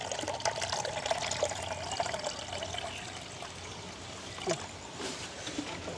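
Water runs and trickles steadily over sesame seeds as they are rinsed in a village kitchen, a continuous close splashing pour with a few brief sharper splashes.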